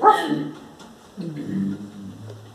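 A voice imitates a dog barking: a loud, throaty bark, then a second lower, drawn-out woof, close up in a quiet room.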